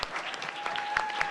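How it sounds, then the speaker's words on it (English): Audience applause at an AI innovation challenge finals event, a steady wash of many hands clapping from a crowd with a few sharper nearby claps standing out, faint voices mixed underneath. "Clap for the judges. You can clap for them as well."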